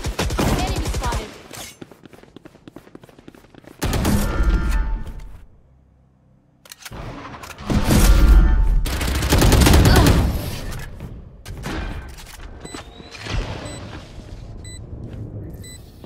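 Bursts of rapid gunfire from a shooter video game come in several loud volleys with quieter gaps between them, and a voice can be heard faintly underneath.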